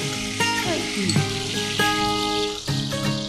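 Chopped tomato hitting a hot pan while soya green peas cook, a loud steady sizzle with a few sharp bursts as pieces drop in, no talking.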